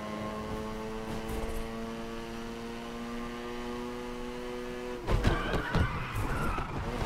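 Rotary-engined Barracuda car drifting in Need for Speed Unbound, a steady tonal engine drone with layered harmonics holding for about five seconds, then a sudden burst of louder rough engine and skid noise near the end.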